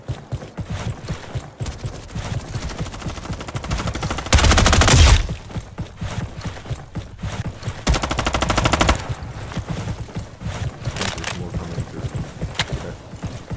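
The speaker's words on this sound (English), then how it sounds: "Okay, yes, my trusty old MP5 SMG" An MP5 SMG in the Roblox shooter Frontlines fires two loud full-auto bursts, a longer one then a shorter one, amid scattered game effects and distant shots.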